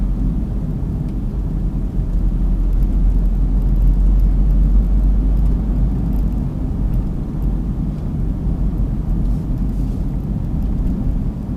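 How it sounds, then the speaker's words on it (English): Engine of a 2012 Smart Fortwo Coupe Passion mhd with Softouch gearbox, heard from the cabin as a loud, steady low rumble that drones on without obvious breaks while the car drives through gear changes. "I'll just try and demonstrate the gear change and how you can make it smoother."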